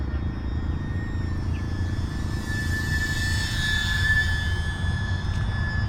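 An E-flite UMX P-47 BL brushless RC warbird flying inverted gives a steady high electric motor whine with a lower rumbling undertone, holding constant and moderately loud without pause.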